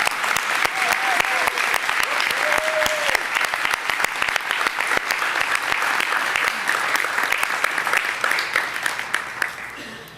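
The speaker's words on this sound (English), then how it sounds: "Let's actually give a big round of applause to all of them" A large audience bursts into sustained applause at a mayoral announcement honoring veterans, dense steady clapping that holds for several seconds before tapering off at the end.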